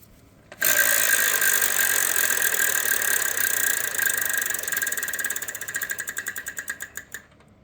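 The prize wheel on the Wheel of Fortune TV game show, at a 1995 Walt Disney World taping, spins with a rapid, steady clatter of clicking pegs that slows into distinct, spaced ticks before stopping.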